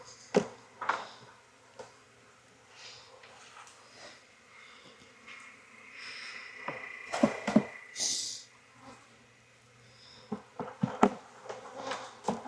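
Honey bees buzzing around an open hive during queen rearing in Jacksonville, Florida, with individual bees droning past close by, some louder passes, alongside faint handling noises of frames and equipment.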